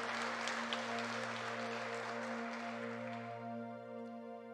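Congregation clapping at a church service in Pires do Rio, a dense round that gradually fades, carried over steady sustained keyboard tones.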